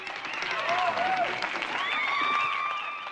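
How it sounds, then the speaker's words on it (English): Audience applause at a team reveal show, sustained crowd clapping and cheering that runs through the whole moment at moderate loudness, with a high whistling tone mixed in. "Let's clap it up for that division."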